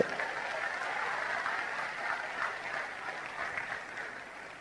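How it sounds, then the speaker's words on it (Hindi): Loud audience applause from a crowd at a live event in Kolkata, sustained dense clapping that holds steady for several seconds and then gradually eases off. "जोरदार तालियां।"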